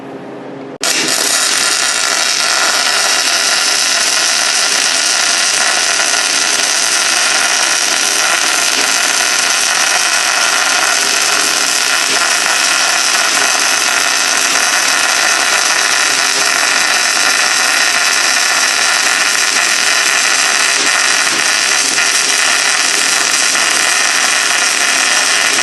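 GMAW spray transfer welding on the final stringer pass of a 2G test plate: a loud, steady, unbroken hiss and buzz that starts abruptly after a brief quiet moment and holds evenly close by for the rest of the run.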